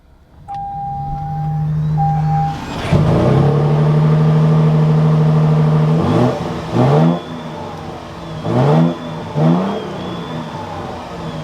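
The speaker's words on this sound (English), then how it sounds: "Let's fire this up with that red TRD button, bring this to life." A 2024 Toyota Tundra TRD Pro starts up after a starter chime: a cranking burst, then a loud close idle broken by three sharp throttle revs, each rising and falling back to idle.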